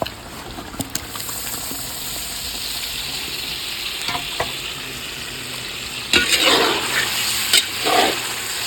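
Marinated chicken pieces are added to a spiced, well-cooked masala in a pan, producing a steady hiss of frying with scraping stirs and two louder bursts of sizzling near the end.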